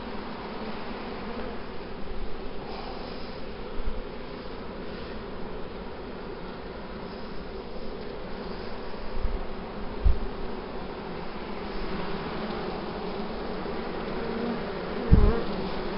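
Honeybees hum inside their hives during an inspection, a dense continuous buzzing close by that stays steady throughout, with a few faint knocks and no speech.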